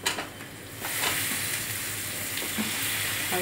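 A sudden loud sizzle bursts up as tomatoes hit hot oil with fried onion and garlic in a pan, then settles into a steady, close crackling fry.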